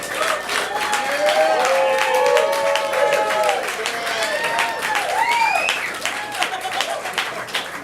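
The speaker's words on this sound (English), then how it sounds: "Ladies and gentlemen, clap your hands for the one and only Big" Audience at a comedy roast claps and cheers for the roastee, sustained applause with scattered whoops and whistles running for several seconds before tapering off.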